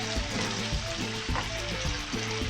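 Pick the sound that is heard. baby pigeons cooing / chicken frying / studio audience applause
chicken frying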